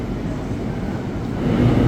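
A KRL commuter electric train at Duri station, its steady low rumble swelling slightly toward the end, close and continuous with no talk.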